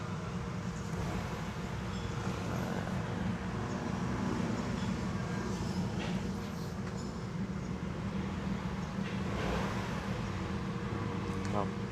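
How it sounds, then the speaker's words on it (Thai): A Nissan March engine idles steadily with a fault code P0400 and a shaking engine, giving a continuous low rumble that stays even and fairly loud throughout. "รอบเครื่องยนต์ก็ถือว่านิ่งนะ"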